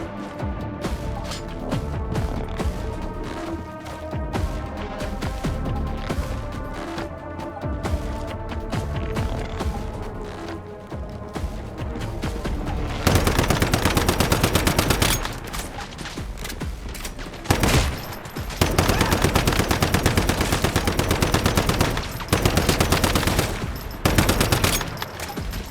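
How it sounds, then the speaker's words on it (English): Gunfire in the video game Once Human, a loud stream of rapid shots that breaks into dense bursts of automatic fire in the second half, close and continuous, with no talking over it. "What the fuck is shooting at me?"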